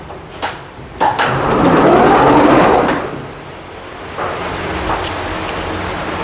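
A new embroidery machine starts up and runs with a steady whirring, rattling drone, rising louder in the middle, with a few sharp clicks and knocks at the start, close and without talk.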